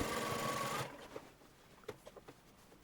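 A sewing machine stitches the waistline seam of a shirtwaister dress, running in a steady continuous whir for just under a second, then stops, followed by a few faint handling clicks and taps.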